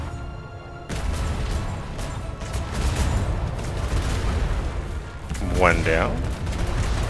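Naval cannon fire traded with a galleon in the video game Atlas: a dense, rumbling barrage of booming shots, loud and continuous, with a brief spoken voice near the end.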